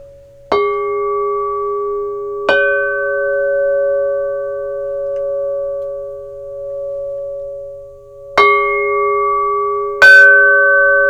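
An aluminum bell cymbal struck four times with a mallet, each hit ringing a pure, sustained bell tone with few overtones, the notes decaying slowly and overlapping, clear and close with no talking.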